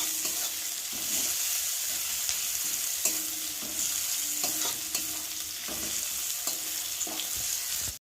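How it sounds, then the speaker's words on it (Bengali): Onion and garlic frying in a pan for a jute-leaf curry, a steady close sizzle with repeated scraping stirs of a spatula, no voices. "পেঁয়াজটা রসুনটা ভালো লাল লাল করে ভাজা হয়ে গেছে"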